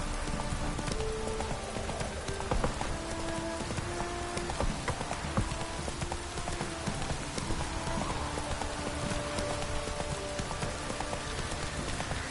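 Rain falls steadily in The Witcher 3 video game, a soft continuous patter with horse hooves clip-clopping along beside it at a moderate distance.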